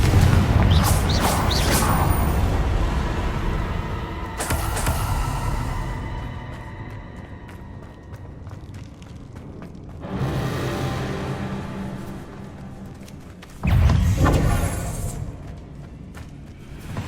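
Bombardo and Confringo spell blasts go off in the video game Hogwarts Legacy as several heavy, loud booming bursts with long rumbling decays, spread across the clip with quieter stretches between them.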